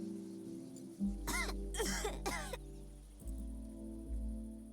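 A video game character coughs three times in close succession, harsh bursts set against a steady low background hum with no speech.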